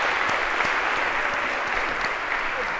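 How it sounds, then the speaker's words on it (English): A lecture hall audience claps for volunteers in a computer science class, producing an even, moderately loud wash of many hands with a few sharper individual claps standing out and no talking. "a round of applause for our 8 volunteers for helping to act this out"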